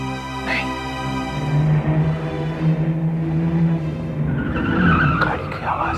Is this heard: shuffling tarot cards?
no